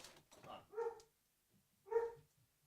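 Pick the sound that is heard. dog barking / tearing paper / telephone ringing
dog barking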